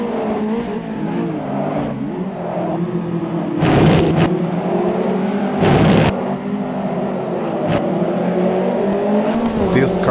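Metalmoro MRX P3 prototype race car in Automobilista 2, racing at Curitiba in a ranked online race, its engine droning steadily with rising and falling pitch and a few louder bursts, under a speaking voice throughout.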